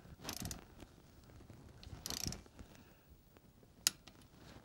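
Ratchet tightening bolts on an ICON steering stabilizer being installed on a Jeep Wrangler, heard as soft clicking bursts near the start and middle, with a sharp metallic click near the end; quiet and close, no talk.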